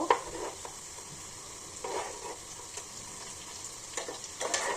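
Vegetable snacks frying in a pan of hot oil as they are turned over, a steady close sizzle with short bursts of crackle each time pieces are moved.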